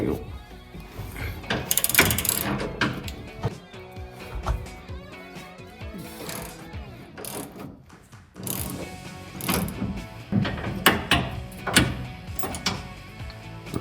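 A ratchet wrench clicks rapidly and repeatedly while loosening body lift bolts on a 2009-2018 RAM 1500 pickup, close and busy, with a few mechanical clunks mixed in.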